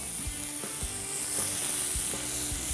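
Thin slices of pork belly coated in soy sauce sizzle steadily in a hot pan, a dense close frying hiss with soft scraping stirs and clinks every half second or so.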